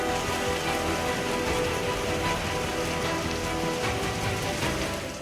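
Heavy monsoon rain pours steadily over Mumbai, a dense, continuous hiss of drops striking surfaces that stays loud and unbroken throughout.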